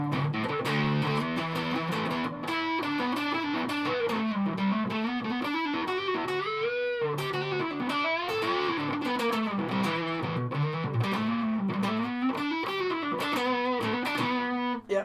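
Electric guitar played through the built-in distortion of an ARTEC QDD Quadsound preamp, a continuous gritty, saturated tone with sustained notes and bending melodic lines, played alone without talk.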